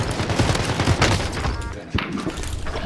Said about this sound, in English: Oh, I'm getting shot by a different squad.